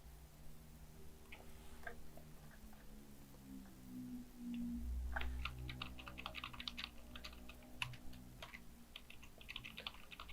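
Computer keyboard keys are pressed while running Python code, giving faint, scattered plastic clicks that cluster into quick taps over a low electrical hum.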